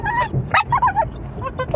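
A puppy whimpers and yips in a quick series of high, close, fairly loud cries, with a person's voice faintly in the background.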